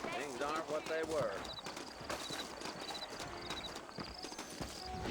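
Horses' hooves clopping on the ground in the Red Dead Redemption video game, a steady clip-clop of several animals under background music and game ambience, with a voice talking over it.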